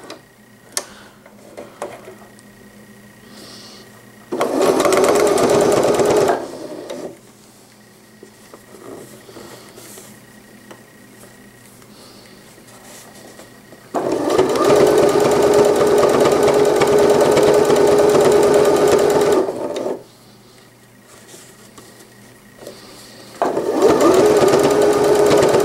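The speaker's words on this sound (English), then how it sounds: "we're going to go ahead and do the top stitching now. Just along that exact same curve we just did." Sewing machine top stitching infant slippers: two long stretches of fast, steady whirring stitching and one short one, separated by quiet pauses with faint clicks.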